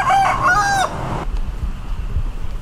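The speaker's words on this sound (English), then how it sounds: "Looks like they got some cocks here." A rooster crows loudly up close in Ho Chi Minh City. Low background rumble follows, with faint clucking and distant crowing.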